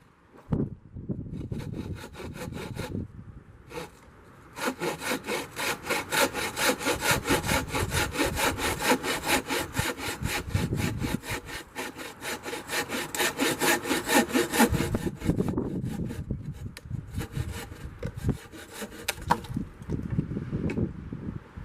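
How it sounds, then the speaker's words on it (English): A hand saw cutting through tree wood at a campsite in fast, steady back-and-forth strokes, close and loud, pausing briefly before resuming. "I'm gonna start sawing up some of these trees"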